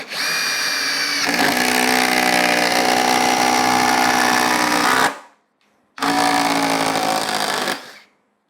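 A Ryobi 18V brushless impact driver with a three amp hour battery sinks a 3 5/8 inch hex lag screw, a loud, close, steady hammering whir for about four seconds, a brief stop, then a second shorter burst.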